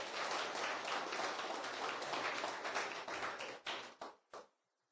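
Steady church congregation applause during a sermon, a dense wash of clapping that fades out into a few last scattered claps.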